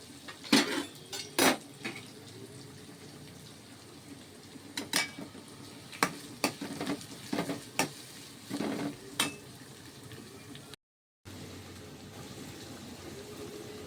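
Onion and dried red chillies sautéing in a pan, with a soft sizzle under scattered clinks and scrapes of a utensil against the pan, fairly quiet and with no talking.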